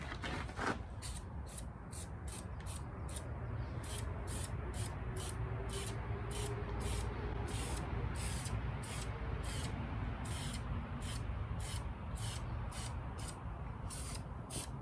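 A continuous hissing test spray from a car paint spray gun, steady and close, holding at an even level throughout with no talking.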